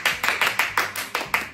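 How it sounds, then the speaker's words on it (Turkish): Audience clapping at a mothers-versus-children Taboo game show, a run of sharp, evenly spaced claps at a brisk steady rhythm, close and fairly loud with no talk over it. "Alkış."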